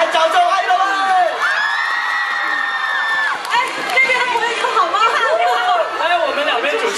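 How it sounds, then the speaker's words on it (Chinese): A studio audience at the Chinese variety show Happy Camp cheers loudly with whoops and excited shouting voices, a dense crowd roar that lasts the whole stretch, with little distinct clapping. "来掌声欢迎他们"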